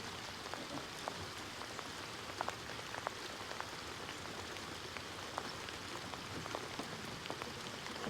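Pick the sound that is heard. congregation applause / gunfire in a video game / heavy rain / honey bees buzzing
heavy rain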